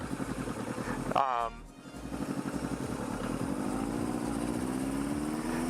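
A Kawasaki KZ650 motorcycle engine idles with a rapid, even low putter after a short burst of noise, the running rising slightly in pitch toward the end, with a voice briefly heard over it.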